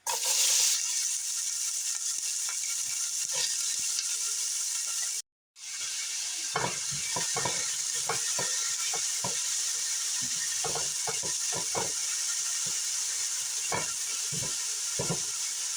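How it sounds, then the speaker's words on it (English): Chopped onion sautéing in hot oil for garlic shrimp zucchini boats, a steady close sizzle and hiss broken by a brief gap, then scattered scrapes and clicks of stirring throughout. "We're going to start sauteing the onion."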